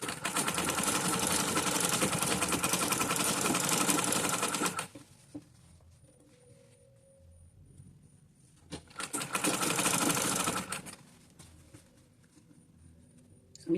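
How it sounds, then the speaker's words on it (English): Sewing machine stitching a six-piece denim bustier top, running in two long steady bursts of rapid needle chatter separated by a quiet pause while the fabric is adjusted. "You can see how I am sewing it"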